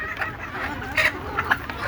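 Desi (native village) chickens cluck in brief, scattered calls, a few short bursts close by over low background noise.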